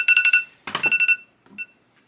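A timer beeps in quick electronic bursts, two rapid clusters of high chirps followed by a fainter single beep, with no talking.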